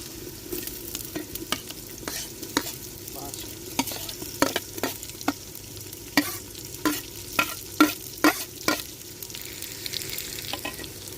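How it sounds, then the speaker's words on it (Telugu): Chopped tomatoes fry in ginger garlic paste in a pan over a village-style wood fire, with a steady close sizzle and regular scraping stirs that knock and clatter rhythmically throughout, with no talk. "టమాటా అంతా యాగనివ్వాలి అల్లం వెల్లుల్లి పేస్ట్లో."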